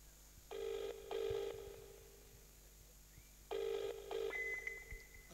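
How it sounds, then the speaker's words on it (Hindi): A telephone rings in two pairs of electronic ring bursts with a quiet gap between them, followed by a thin steady tone, all fairly faint and with no voices. "मैं मुफ्ती शुजाउर रहमान साहब को फोन करता हूं"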